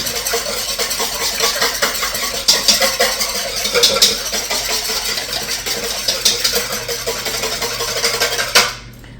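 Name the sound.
whisking ingredients together in a bowl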